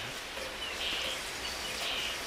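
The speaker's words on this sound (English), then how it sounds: "When it starts off cool and rainy like this" Steady rain falls outdoors on a cool morning, a soft continuous hiss with faint birdsong chirping above it and no voices.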